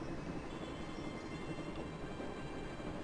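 An electric train with overhead cables runs steadily in the Broken Sword game, a constant low rumbling rail noise with faint clatter and no talking.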